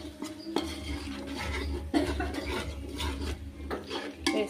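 Spoon stirring yogurt into egg biryani masala in a cooking pot, with repeated scraping and clinking of metal against the pot in an uneven rhythm, fairly soft and close.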